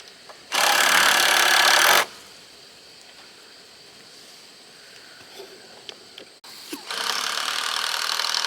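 A power drill drives screws into wood during a barn build, two loud, steady whirring bursts of about one and a half seconds each, separated by a quieter pause with faint knocks.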